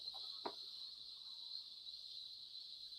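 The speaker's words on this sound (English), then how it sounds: "cicadas." Faint high insect buzzing from cicadas drones steadily throughout, quiet and distant, with a brief soft knock near the start.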